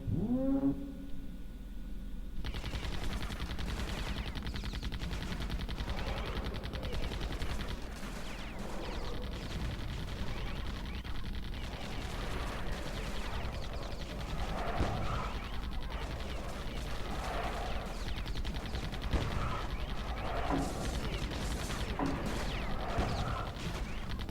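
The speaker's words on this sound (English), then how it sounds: "the range of these guns make them able to shoot across that gap" Gun towers in the strategy game Defense Grid: The Awakening fire continuously, with steady overlapping bursts and metallic mechanical clatter held at an even level for over twenty seconds, no talking.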